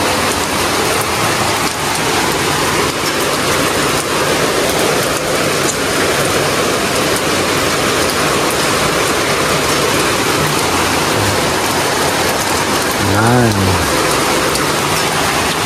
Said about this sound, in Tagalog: hindi pa rin tumitigil yung ulan